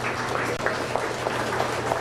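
Steady audience applause for exhibitors at a county fair beef show, a dense patter of many hands at moderate level running the full two seconds over a low steady hum.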